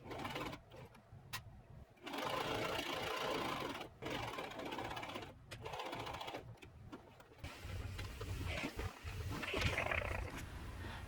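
A sewing machine stitches the back seam of a gold kaftan top, running in several loud bursts of steady whirring separated by short pauses and handling noises.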